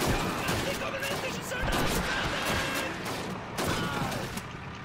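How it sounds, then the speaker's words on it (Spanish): Battle sounds in Call of Duty 2, with dense, continuous gunfire and explosive bursts forming a loud, chaotic wall of noise, and shouting voices mixed in with the shooting. "¡Nos están disparando!"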